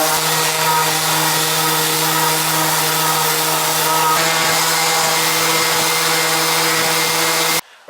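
A power sander roughs up a painted laminate Ikea tabletop over particle board, a steady loud whirring drone with a constant hum that runs without pause and cuts off abruptly just before the end.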